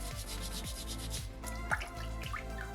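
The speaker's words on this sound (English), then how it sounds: "Might flip my sandpaper back and forth." Sandpaper rubs back and forth over a small soapstone shark carving, a close, quiet, rhythmic scraping with repeated strokes and no voices.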